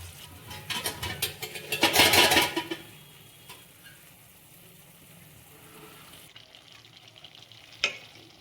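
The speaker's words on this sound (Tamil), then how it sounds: "இந்த பாஸ்தாவை பூரா இந்த கிரேவியோட போது சேர்ப்போம்." Beetroot pasta stirred into gravy in a pan off the heat, a loud burst of wet mixing and scraping in the first few seconds, then quieter faint stirring with a sharp clink near the end.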